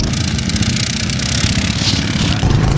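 Racing lawnmower engines roar together at a race start, a dense, continuous buzzing drone that stays loud and steady throughout with no talk.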